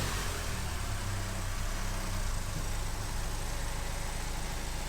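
A 2015 Vauxhall Corsa E with a lean fuel fault runs at a steady, somewhat rough idle, its low engine hum close and continuous with no talk over it.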